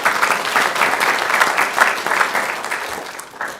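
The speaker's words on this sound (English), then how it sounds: "Let's give him a round of applause." Applause fills a city council meeting, a steady, full clatter of many hands clapping in a room for several seconds with no talk over it.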